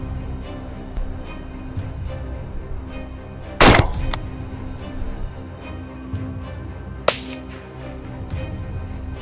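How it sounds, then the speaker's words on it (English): Gunfire during a wild boar hunt in forest and swamp country: two sharp, loud shots roughly three seconds apart, the first with a longer crack, over a steady outdoor background rumble. "Continuously firing, we took down 5 more wild boars."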